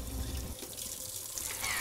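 Water running steadily from a sink tap while hands are wetted under it for handwashing, a close continuous splashing rush with slight shifts as the hands move through the stream.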